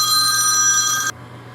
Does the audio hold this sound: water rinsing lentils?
no